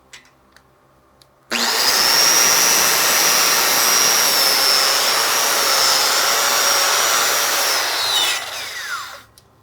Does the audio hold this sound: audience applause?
no